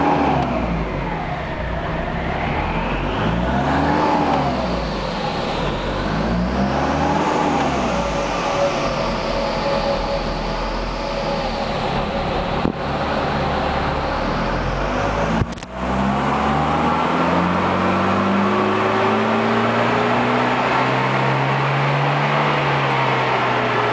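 A car engine revving repeatedly during a tuning run, rising and falling in long sweeping cycles, then climbing steadily in pitch toward the end, loud and close with no speech.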